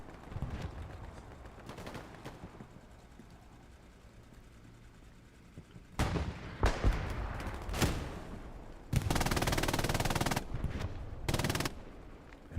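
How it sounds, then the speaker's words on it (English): MG 42 machine gun fire in a multiplayer World War II shooter match: rapid, tearing bursts of several seconds each, loud and close, following a stretch of quieter ambient battle noise. "MG 42 action to suppress the infantry"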